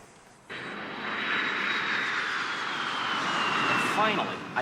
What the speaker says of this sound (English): Finally, I get on the plane.